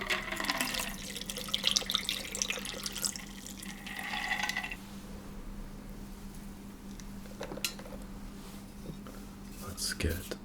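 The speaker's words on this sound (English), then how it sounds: "We will strain this off into our glass." Liquid from a cocktail shaker is strained into a glass, a soft trickling pour with faint clinks of ice, followed by quieter handling and light drips.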